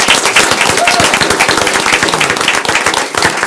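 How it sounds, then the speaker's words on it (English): Audience at a city council meeting applauds local baseball players being honored for a valley baseball hall of fame, a loud, dense round of clapping that holds steady throughout. "Big round of applause for these players."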